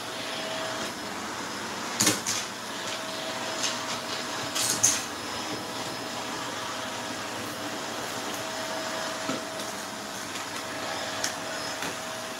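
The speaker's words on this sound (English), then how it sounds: "And it's hard to vacuum." Steady broadband roar of a vacuum cleaner pulling through a thick mix of little circle-shaped pieces, constant throughout with a few brief clunks and rattles, no talking.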